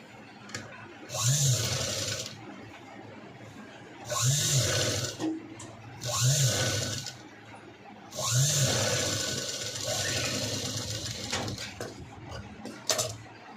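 A sewing machine stitching the side seam of a blouse runs in four rapid whirring bursts of a few seconds each, close and loud, with brief quiet gaps between them.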